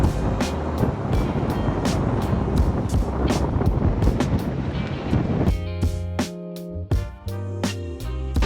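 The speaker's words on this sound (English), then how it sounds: "the wind's picked up to 18 knots" Strong wind buffets the microphone aboard a sailing catamaran rounding Cabo at sea, with a steady roar of wind and water rushing close by, then a droning engine-like hum with rattling in the last few seconds.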